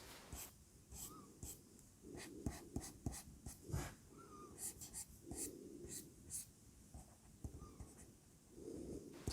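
Marker Plus stylus writing on a Note Air e-paper screen, a slippery surface giving soft, low-friction scratches and taps in quick irregular strokes, close and fairly quiet, with no talking.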